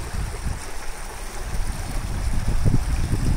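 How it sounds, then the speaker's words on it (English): Himalayan mountain stream water flowing steadily beside a walking path, a continuous broadband rush with low gurgles that grows slightly louder toward the end, heard alone without talk. "The sound that you hear is the water that comes from the Himalayas."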